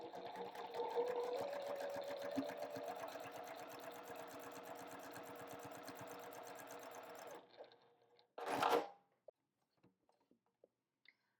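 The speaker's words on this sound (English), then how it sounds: "I'm just going to sew across here" A sewing machine stitches a diagonal seam across a quilt, a steady close mechanical whir with fast ticking that runs about seven seconds before stopping, followed by a brief rustle and a few small clicks.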